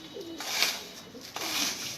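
Pigeons coo at close range in two rounded bursts over a soft airy background, with no speech.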